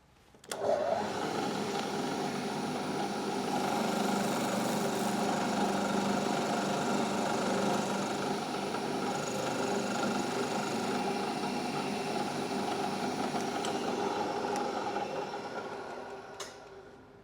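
A milling machine cuts a hex bolt in a workshop, giving a steady, continuous whirring drone with faint high scraping that holds at an even level before tapering off.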